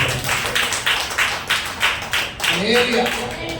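Steady, rhythmic clapping in a church gathering comes as a series of loud, evenly spaced bursts. Voices rise over it toward the end.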